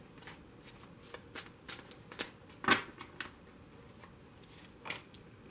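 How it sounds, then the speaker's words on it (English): Tarot cards are shuffled in a quiet room, a series of soft, crisp riffles and snaps at irregular intervals, close by. "I'm only going to shuffle it for a moment."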